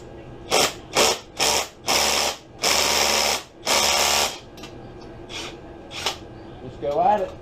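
An impact wrench spins a socket against the flywheel nut of an SSR 110cc pit bike, firing five loud rattling bursts of about half a second to a second each with short gaps, then a few lighter taps and a faint voice at the end.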